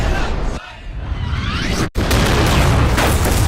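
Car explosions in a Final Destination crash scene, loud booming bursts and whooshes over dense movie action noise, broken by a brief dropout before the chaos resumes.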